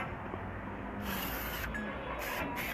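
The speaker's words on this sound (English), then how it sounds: "You hear this spray bottle?" A spray bottle gives several short airy hissing bursts at close range over steady background noise.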